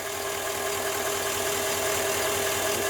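A Sierra 2500 pickup with an Allison 1000 six-speed transmission idles steadily, a constant close mechanical hum with a faint ticking knock throughout and no voices.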